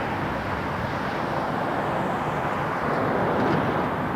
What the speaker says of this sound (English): 787 Dreamliner.